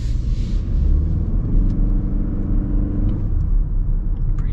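A 2025 Lexus NX 350h hybrid pulls away, giving a smooth low rumble and soft whir from inside the cabin that stays steady and fairly loud throughout.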